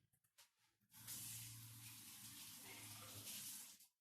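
Tap water gushes into a kitchen sink while hands are washed, a steady, close rush that starts after a second of soft handling sounds and stops abruptly near the end.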